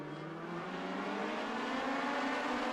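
Race cars roar around Charlotte Motor Speedway in a dense, continuous, rising engine drone, heard from a distance with no one speaking.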